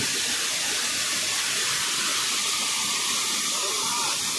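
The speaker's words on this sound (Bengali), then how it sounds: "এই মুহূর্তে একদম ঝর্ণার সামনে দাঁড়িয়ে আছি। এটা হলো সেই বামনি ফলস।" Rushing water at Bamni Falls, a large waterfall above big boulders in the Ayodhya hills of Purulia, makes a loud, continuous broadband roar that stays steady throughout.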